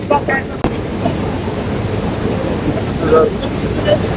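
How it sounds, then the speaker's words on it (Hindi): Strong, fast river current in a Sikkim mountain valley, a loud continuous rushing roar of water with wind buffeting the microphone, brief voices faintly over it. "पानी का करंट बहुत ज्यादा तेज है।"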